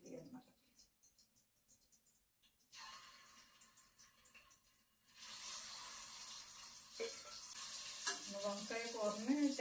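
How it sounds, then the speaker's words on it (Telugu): Eggs frying in oil with turmeric, starting quietly with some stirring, then a steady loud sizzle from about five seconds on that grows brighter toward the end, with a voice speaking faintly early on. "ఫస్ట్ మనం గుడ్లు వేపేసుకుందాం"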